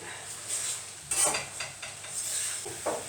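A mixture of chopped tomatoes, basil and finely sliced black olives being stirred, with soft scraping and light utensil clinks against the dish, quiet and close.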